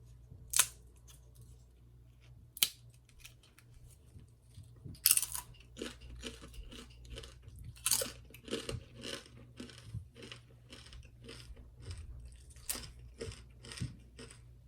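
Homemade baked tortilla chips, golden brown and crisp, being bitten and chewed up close: a few sharp, loud crunching bites followed by a long run of rapid, crackly chewing crunches, with no talking.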